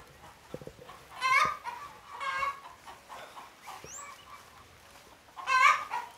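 Hens crossed with Hmong fighting roosters cluck on a farm, with bursts of clucking and cackling coming and going in several loud phrases over quiet outdoor background.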